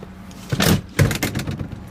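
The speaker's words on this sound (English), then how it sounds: "you actually tumble it with this switch" A 2012 Mitsubishi Outlander 4WD GT third-row seat tumbles forward at the push of a switch, giving two close mechanical clunks and a short whirring movement inside the cabin, with no talking.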